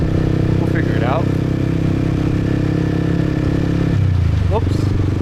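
A motorcycle rides through the streets of Saigon's District 2, its engine droning steadily up close and shifting pitch through gear changes, with traffic clatter around it and a voice speaking briefly.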